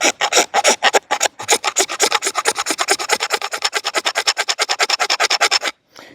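A magnesium bar firestarter is scraped into shavings in fast, regular rasping strokes, dozens of sharp close scrapes in a steady rhythm that stop abruptly near the end.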